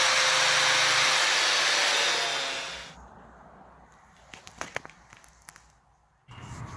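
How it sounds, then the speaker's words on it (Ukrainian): Loud, high-pitched whine of an angle grinder cutting pallets while building a chicken coop, winding down after a couple of seconds, followed by scattered clinks and handling noises. "болгаркою вирізав."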